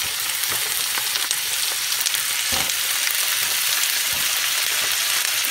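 Shrimp brown in a hot pan for kung pao shrimp, filling the clip with a loud, close, continuous sizzle and crackle, with occasional soft stirring sounds and no voices.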